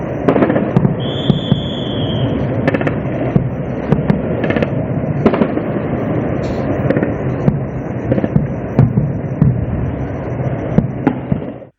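Explosions as drones are shot down in a border region, a dense continuous series of sharp distant booms and crackling blasts over a steady rumbling background, with a brief high whistle early on.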